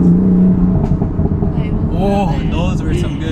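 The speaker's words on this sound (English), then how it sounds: "Oh, those were some good burbles." Exhaust burbles and crackles from a car running a stage 1 BootMod3 tune, a rumbling engine note with pops bursting over it, heard close under wind noise on the microphone.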